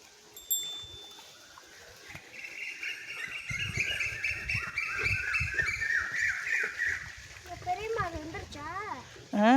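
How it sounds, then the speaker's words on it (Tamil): Asian koel calling at a rural dairy farm, a rising repeated whistled call near the end, heard amid other chirping birds and background voices. "குயில் சத்தத்தை பார்க்குறீங்களா?"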